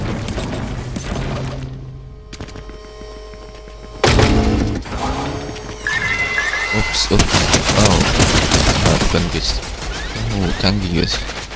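Gunfire from a sensor-triggered weapon in Fortnite chapter 5 bursts loudly amid dense game sound effects and music, with a sudden heavy blast partway through and continued shooting after it.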